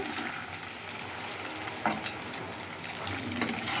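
Eggs frying in a pan, a dense, steady close sizzle with light stirring, one brief scrape in the middle, no voices.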